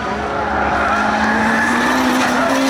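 Race cars in a spectator drag at Seekonk Speedway roar loudly and continuously on the back stretch, with a steady engine drone and rising pitch, a faint tire squeal mixed in, and no talk over it.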